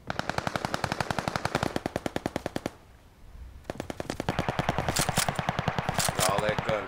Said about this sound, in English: All that gunfire, boy.